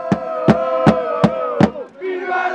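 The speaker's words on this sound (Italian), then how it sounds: "ci pensa il tifo della strana curva, che incita la squadra in modo inequivocabile" Football supporters in the curva of a small local stadium roar a rhythmic chant, five sharp accented beats in steady rhythm from a massed crowd, loud and close, before the voices swell into sustained cheering.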